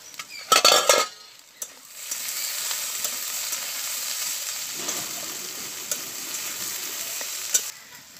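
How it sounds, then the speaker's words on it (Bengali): Potatoes and flat beans frying in oil in a pan, with a few clattering stirs of a utensil at the start, then a steady, close, continuous sizzle running alone throughout. "আলু ও সিমটা ঢাকা দিয়ে ভালো করে ভেজে নেব।"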